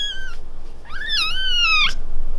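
A newborn orphan kitten meows up close: one short, high cry, then a longer, wavering meow after a brief pause. A soft, steady background hiss runs beneath both.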